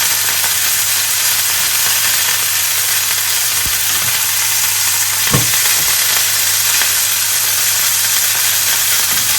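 Pieces of pork tenderloin brown in a frying pan with a loud, steady sizzle and hiss throughout, broken by a couple of brief clinks from the pan.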